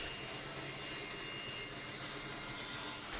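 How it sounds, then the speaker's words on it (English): A bandsaw cuts through a thick 50mm oak board, producing a steady, broad whirring rasp that runs unbroken at moderate volume for the whole stretch. "I found some 50mm oak on the shelves that I can cut down to 19mm on the bandsaw"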